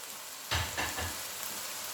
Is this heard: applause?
no